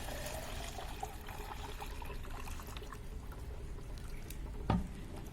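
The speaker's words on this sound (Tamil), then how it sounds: "அதில் ஒரு 750 ml தண்ணி ஊற்றிக்கலாம்." Water trickles steadily and softly into a small plastic container, about 750 ml poured for an artemia culture, with one brief knock near the end.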